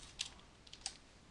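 Two soft, crisp clicks of a computer keyboard spacebar, pressed about half a second apart while modeling in Modo, close and quiet against a faint room hiss.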